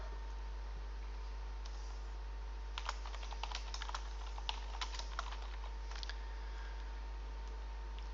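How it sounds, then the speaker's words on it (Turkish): Someone types product data on a computer keyboard, a scattered run of light, quick key clicks over a steady low hum in a quiet room. "Stok kodu olarak da tekstil 1, 2, 3 şeklinde yazalım."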